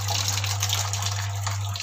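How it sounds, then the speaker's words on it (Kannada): An IFB TL-RSS6.5kg aqua top-load washer dryer takes in water, a continuous rushing gush into the drum over a steady low electrical hum, constant and fairly close. "ನೀರು ತಗೋತಾ ಇದೆ"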